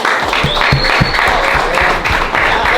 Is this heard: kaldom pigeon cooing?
no